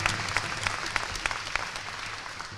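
Graduation audience clapping at an Africentric school ceremony, a moderate spread of applause with a few sharper individual claps standing out, tapering slightly toward the end, with a faint low hum underneath.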